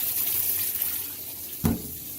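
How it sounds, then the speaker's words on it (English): Water rushes steadily into a Kenmore washing machine with a constant hiss, then a brief knock sounds before the flow carries on. "Got your water coming in."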